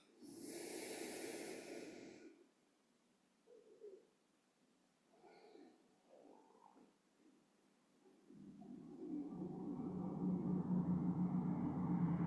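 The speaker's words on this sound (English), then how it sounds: "Breathing in through the nose and out through the nose" Slow nasal breathing during a relaxed yoga session, a soft snort-like inhale at the start, then quiet gaps with faint breaths, before a steadier, louder airy exhale builds toward the end.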